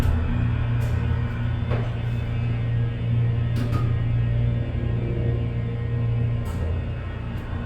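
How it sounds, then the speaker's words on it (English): Old unmodernized hydraulic elevator in the Gulf Gate Professional Complex, Sarasota, Florida, its motor running with a steady low hum and drone throughout, a few faint clicks on top, no voices. "Listen to this motor."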